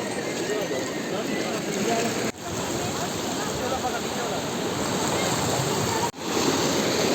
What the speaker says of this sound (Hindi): तो क्या समझ लो क्या बहाव है इस टाइम गंगा जी का,